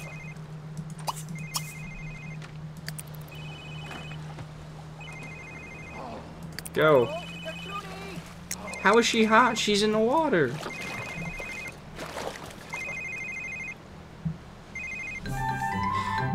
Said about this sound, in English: Her phone is ringing in the water.